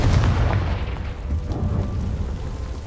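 In Hogwarts Legacy, a Confringo blasting curse detonates with a heavy, booming explosion whose low rumble rolls on and slowly fades across nearly three seconds.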